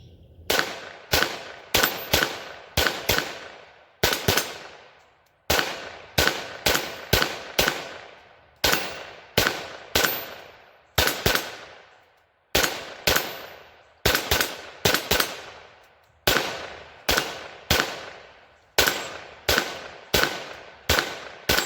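A Kel-Tec CP33 pistol fires in quick strings of sharp, loud shots with brief gaps between volleys, each report ringing out with a short echo.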